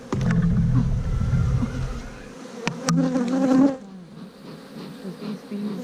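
Honey bees buzz close by during a hive inspection, a dense droning hum that is loud at first, then thins as individual bees whirr past, with a few sharp handling knocks mixed in.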